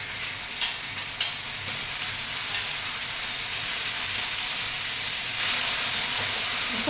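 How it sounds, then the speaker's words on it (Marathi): Washed bitter gourd sizzling in oil on a hot griddle, a steady close-up crackling hiss with a couple of soft knocks early on, growing slightly louder and brighter near the end. "तवा तापलेला आहे त्यामध्ये थोडंसं तेल टाकूया आणि हे धुतलेलं कारलं टाकूया"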